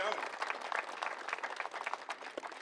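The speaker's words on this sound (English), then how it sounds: "Can you give a round of applause?" Audience applause at the opening of a new city hall building in Amarillo: a brief burst of scattered hand clapping from a crowd, moderately close, with voices mixed in.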